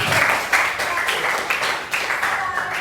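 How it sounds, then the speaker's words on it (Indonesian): A classroom of students applauds a classmate named Aris in an Indonesian lesson, a short burst of scattered, uneven clapping from nearby pupils that swells and fades in uneven waves. "Tepuk tangan dulu buat Aris."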